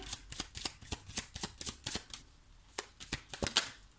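Tarot cards being shuffled in a steady run of crisp riffling flicks and slaps, close and fairly quiet, with a brief lull near the middle before the rhythm resumes.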